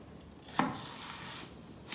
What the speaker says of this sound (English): I'm just going to cut these in half